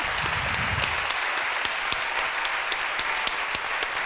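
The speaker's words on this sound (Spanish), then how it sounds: "Un fuerte aplauso para ellos," Steady, full applause from an audience at a literary evening event, with a few sharp individual claps standing out and a brief murmur of voices at the start.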